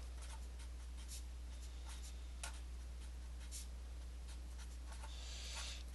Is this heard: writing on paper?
yes